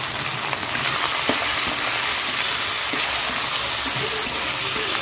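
Freshly washed potatoes just dropped into hot oil, giving a loud, dense, continuous hiss and crackle of wet food frying, close, with a few faint utensil knocks.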